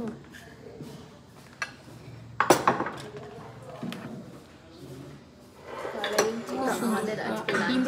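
Plates and cutlery clink and rattle as lunch is served aboard the Tista Torsa Express, with sharp metallic clatters standing out among steady train rumble, while people talk nearby.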